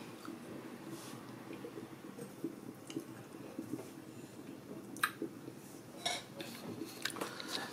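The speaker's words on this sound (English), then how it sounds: "So guys, look at how our soup is boiling." Nigerian Ogbono soup bubbles in a pot on Christmas day, a soft, steady, squishy simmer with occasional small pops, faint and close with no talking.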